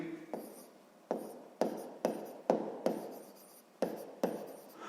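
Handwriting on paper while working a sixth-grade maths exercise, a series of close, distinct scratchy pen strokes in short bursts, each starting sharply and fading, with quiet pauses between.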